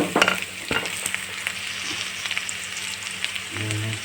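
Tomatoes and a ground paste of pepper, cumin and fennel sizzle and crackle in hot oil for chicken gravy, steady close frying with a few stirring clatters and spoon knocks.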